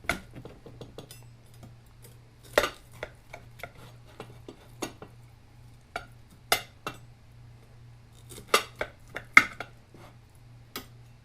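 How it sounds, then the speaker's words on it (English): Knife and fork cutting up a cooked T-bone steak on a plate, heard as a scattered series of sharp metallic clinks and scrapes against the dish, quiet and close, with short pauses between strokes. "I'm going to go ahead and cut it up and see what we got on the inside."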